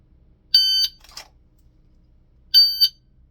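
A shot timer beeps twice during dry-fire draw practice, two loud, clean electronic tones about two seconds apart, with a brief faint rustle of movement just after the first.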